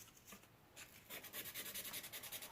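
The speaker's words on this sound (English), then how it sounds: "So I'm going to take and hand sand a lot of this out." An old electrician's knife blade is hand sanded with quick back-and-forth abrasive strokes, a soft rhythmic rasping that starts slow and settles into a steady, close, quiet scrubbing pattern.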